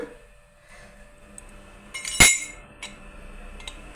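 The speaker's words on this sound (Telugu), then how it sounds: "ఈ మీడియం సైజు రంధ్రాలు ఉండేది ప్లేట్ తీసుకున్నా" A metal noodle press plate with medium-sized holes is picked up and handled in a home kitchen, giving one sharp, bright metallic clink partway through amid quiet, scattered light taps and rattles.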